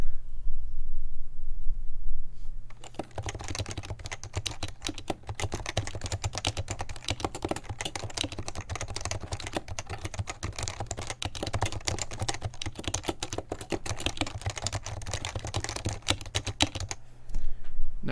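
Typing on a Leopold FC660C keyboard resting on a Cherry desk mat, its rubber feet down: a steady, dense run of muted, dull keystrokes close by, with no talking.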